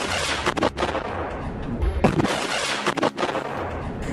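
Mortar shells fired in Gaza give repeated loud booming blasts and sharp cracks at irregular intervals amid continuous noisy rumble, with distortion suggesting the blasts are close.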